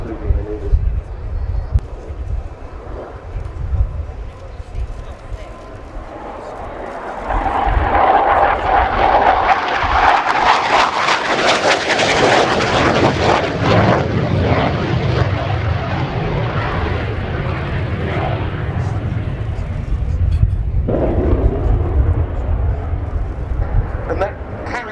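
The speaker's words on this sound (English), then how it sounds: "that characteristic slam as the afterburner engages, so typical of so many of the generation of jet engines of the Tumansky R25 of the MiG." A Romanian Air Force MiG-21 LanceR with its Tumansky R25 jet engine roars during a flying display, swelling into a loud, broad afterburner rumble that builds and sustains, with a second surge near the end and someone commentating over it.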